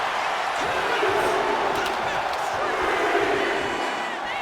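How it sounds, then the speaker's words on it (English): A wrestling arena crowd roars and cheers during a Last Man Standing World Heavyweight Championship match between The Undertaker and Batista, a dense, loud, continuous wall of sound. "And Batista is revving this crowd up"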